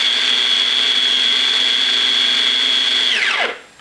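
An electric chopper grinds garlic and preserved black beans with a loud, steady high whine close by, then spins down with a falling pitch as it stops after about three seconds.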